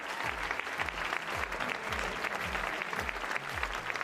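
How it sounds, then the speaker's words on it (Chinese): Audience applause at a stage show, a Tibetan-style youth talent final performance: a dense crowd clapping steadily and loudly for several seconds without a break. "再次掌声，谢谢娜姐"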